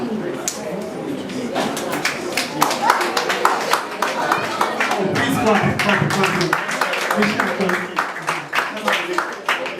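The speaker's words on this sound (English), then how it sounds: "Please clap." Audience clapping at a retirement ceremony, a steady run of hand claps over about ten seconds with a moderately close, busy texture and voices talking through it.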